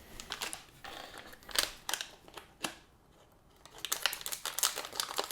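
Scissors snip and packaging crinkles in quick irregular bursts while a boxed ODROID XU4 single-board computer is cut open, close up, with a brief pause midway.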